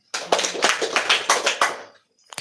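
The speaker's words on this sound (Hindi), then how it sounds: "जिस शक्ति का आह्वान करना है उतनी तालियां बजाना है" A group claps hands together in a short burst, about seven or eight loud, fairly regular claps close by, then stopping abruptly into quiet with no talk.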